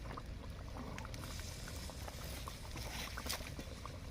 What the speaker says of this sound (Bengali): ঝোল আমাদের ফুটছে দেখতে পাচ্ছেন বন্ধুরা